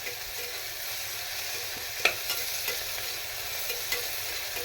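Small onions frying for rice upma make a constant close sizzle, with occasional sharp clicks and scrapes as they are stirred, and no voices.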